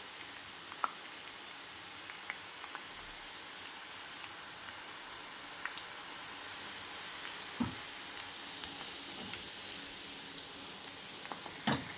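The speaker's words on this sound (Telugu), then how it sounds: "చూడండి, ఆలుగడ్డలు బాగా వేగుతున్నాయి ఇప్పుడు నూనెలో." Potatoes fry in oil, a continuous fine hiss of sizzling with occasional light pops and stirring clicks, heard close up at low volume without speech.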